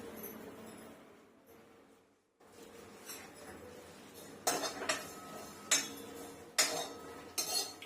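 Whole garam masala roasted and stirred in a hot kadhai for Maharashtrian katachi amti, heard as repeated close metallic scrapes and clinks of a spoon against the pan, quiet at first and then in sharper bursts, with no talk.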